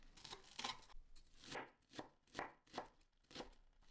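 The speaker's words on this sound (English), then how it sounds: "Slice 6 spring onions." Six spring onions being sliced with a knife on a cutting board for chicken wonton stuffing, a quick run of crisp, close chopping strokes in uneven bursts, with no talk over them.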